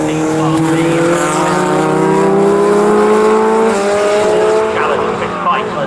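Sports special racing cars at Snetterton, engines screaming at high revs with steady rising and falling pitch as they pass close by, loud and continuous under a commentator's voice.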